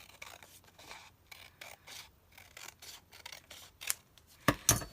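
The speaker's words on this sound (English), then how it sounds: "I'm just going to go ahead and cut along the score line." Scissors snip through a scored cardstock spine along the score line in a close series of short crisp cuts and rustles, ending with a couple of louder snips.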